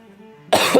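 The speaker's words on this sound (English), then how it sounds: "I am so sorry for coughing all the time." One sharp, close cough bursts out after a brief stretch of soft low hum, loud and rough against the quiet background.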